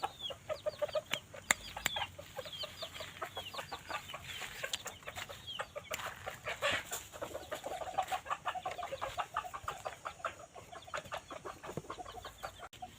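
Bantam chickens, three hens and two roosters, cluck busily and repeatedly, a dense chorus of short rhythmic clucks close by, with a few sharper calls mixed in.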